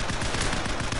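Gunfire in the video game Call of Duty 4, a dense, loud burst of rapid automatic shots filling the whole short moment without pause.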